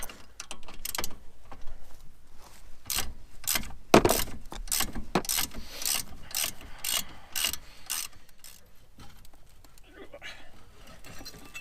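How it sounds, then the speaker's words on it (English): Ratchet wrench clicking steadily while loosening front brake caliper bolts on a Mazda 6, bursts of rapid pawl ticks close up, with a louder clank near the start of the run. "Switch over to our ratchet here."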